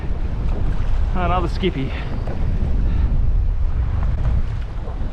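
Strong wind at sea buffets a drifting fishing boat with a loud, continuous roar and rumble. A voice speaks briefly through it.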